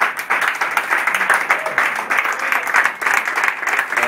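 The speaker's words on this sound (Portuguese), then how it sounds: "Eu queria que vocês dessem um aplauso especial ao Manuel." Audience applause for a musician at a small live concert, with a modest crowd clapping in uneven bursts at moderate volume for a few seconds.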